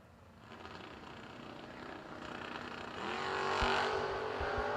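A 1967 Camaro revs and accelerates on a drag strip, its engine roar building loudly from a steady rumble to a stronger surge over crowd and track noise.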